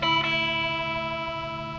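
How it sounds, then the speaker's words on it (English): A vintage Leslie 16 rotary speaker cabinet voices a sustained organ chord, its tone swirling and wavering as the rotating baffle spins, close and fairly loud with no talking. "You can hear that rotating effect."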